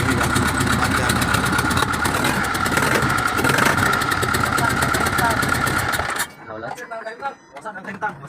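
A loud Isuzu 4HK1 diesel truck engine, just rebuilt after a top overhaul, starts and rumbles steadily with a clattering idle, then cuts off sharply, leaving quieter mechanical clanks and voices nearby.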